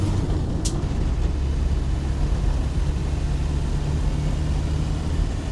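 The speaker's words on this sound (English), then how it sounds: "we'll accelerate through third and fourth" A 1996 Land Rover Defender 110 with the 300Tdi diesel pulls hard through third and fourth gear, its close, steady engine drone and road rumble running unbroken, with no one talking.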